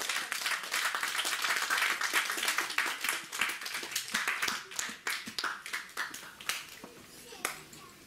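A church congregation breaks into dense, sustained applause and clapping during a Christmas celebration service, loud and crowd-wide, thinning into scattered claps toward the end, with voices mixed in.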